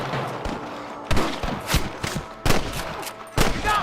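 Sniper and rifle gunfire in the western video game Red Dead Redemption, with several sharp, loud shots and bursts spaced irregularly over a low background.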